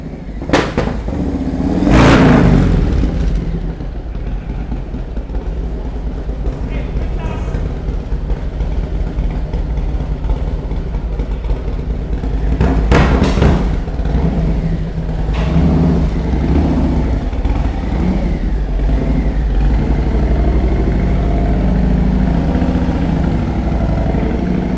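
A 2023 Harley-Davidson CVO motorcycle on a dyno revs hard twice, at the start and again about halfway through, each a loud rising roar over a steady throbbing idle in between.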